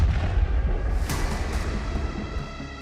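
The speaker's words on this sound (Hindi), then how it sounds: "जैसे ही टैंक के अंदर बैठा ऑपरेटर टैंक से उतरता है, पूरा टैंक एक धमाके में उड़ जाता है।" A tank blows up after a missile attack in a single deep, booming explosion that rumbles on, with a sharp crack about a second in and heavy low-frequency roar throughout.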